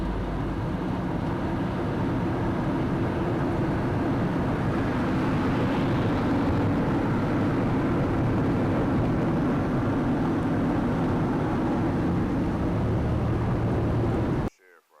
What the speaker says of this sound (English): So you see that plane flying across